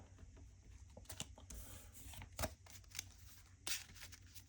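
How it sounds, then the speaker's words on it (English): A deck of Marvel Champions cards being shuffled by hand, giving a few soft riffling and patting bursts at close range in an otherwise quiet room. "We're going to shuffle up our deck."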